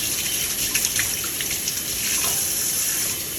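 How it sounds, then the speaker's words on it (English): Tap water runs into a cooking pan, a steady close splashing and gurgling stream with slight shifts in tone as the pan fills, no voices. "I have to firstly put some water in this pan"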